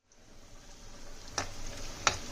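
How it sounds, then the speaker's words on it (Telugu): Onions frying in a pan for a country-chicken curry make a soft, steady sizzle that fades in and holds, with two sharp spoon clinks against the pan, quiet and close, no voices. "ఇలా కాసేపు ఫ్రై చేసుకుందాం."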